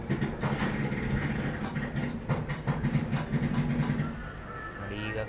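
Malgudi SF Express train rolls along the rails with a continuous rumble and rhythmic clatter, heard from on board at moderate loudness, with a faint hiss and some quiet background voices.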